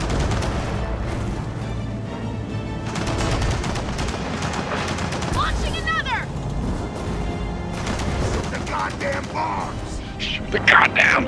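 Continuous heavy gunfire in a Gears of War 4 co-op campaign battle, with dense rattling shots and booms throughout, mixed with game sounds and voices shouting over the fight.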